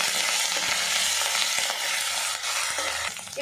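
Onion paste fries and is stirred in a pan over tempered spices while cooking a jackfruit seed and chana dal dish; a loud, steady sizzle fills the clip, with occasional scraping stirs and no talking.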